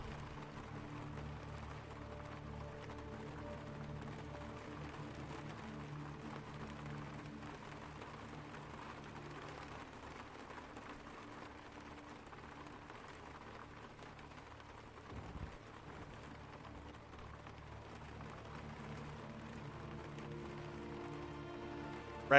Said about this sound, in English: Oh, this rain. It sounds so cool.